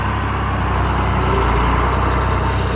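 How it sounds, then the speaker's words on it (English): Antique Oliver tractors rumble past in a steady, continuous drone during a farm toy show tractor drive, their engines close and loud with no break. "Well, those Olivers just sound good."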